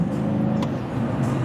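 A 2003 Chevrolet Silverado SS pickup drones steadily under acceleration, its engine a dense low hum heard from inside the cab. The stretch is brief and has no clear shift break.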